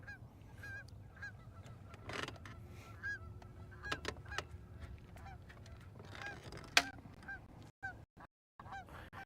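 Geese honk repeatedly on Lake Guntersville, a scattered chorus of calls at moderate distance over steady low rumble and water noise, with a few sharp knocks near the end.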